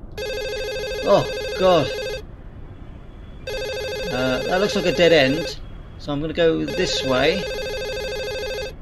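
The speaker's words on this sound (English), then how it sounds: "That phone is still loud" A loud telephone keeps ringing in the indie horror video game My Strange Attic, its bursts repeating in long stretches while someone talks over it.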